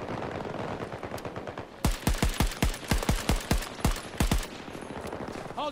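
Heavy-recoil weapon firing in Battlefield 2042, a steady rhythmic string of about a dozen loud, punchy close shots, each with a deep thump, after a quieter stretch of background battle noise.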